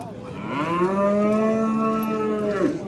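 A cow at the Baghdad cattle market gives one long, loud, close moo that swells, holds steady for about two seconds and then trails off over faint background murmur.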